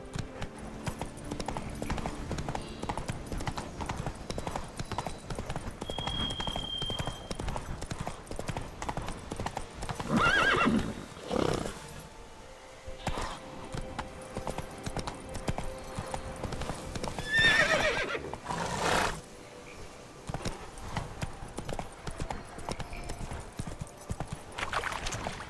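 The horse Roach gallops in The Witcher 3, its rhythmic clip-clop of hooves running steadily throughout, with a couple of louder bursts that may be whinnies.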